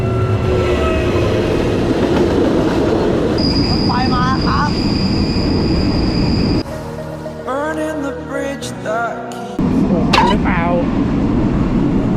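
A passenger train on a long cheap-ticket journey to Chiang Mai, Thailand, rumbles steadily on its rails, with voices talking over the noise and a quieter stretch partway through.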